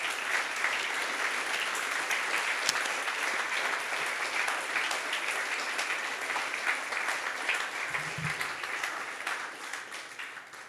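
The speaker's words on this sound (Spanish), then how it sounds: "Denle un aplauso al Señor." A church congregation applauds, dense and sustained clapping that fills the space evenly throughout, moderately loud with no voices standing out.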